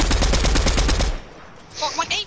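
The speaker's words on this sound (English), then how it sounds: "There's gunshots over here." Rapid automatic gunfire in an online shooter game, a loud burst of closely spaced shots lasting about a second, followed by quieter game sounds.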